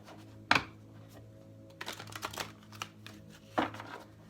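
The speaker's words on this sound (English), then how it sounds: "These cards are super stiff, and so they shuffle a little clunky." Stiff tarot cards shuffled by hand, close up, giving clunky riffling clatters in three short bursts with quiet pauses between and no talking.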